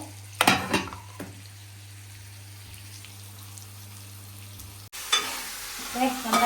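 Oil sizzling and spattering for a Kerala-style crab curry, loud crackling bursts near the start, a quieter steady fry through the middle, then a fresh surge of sizzle toward the end over a low steady hum.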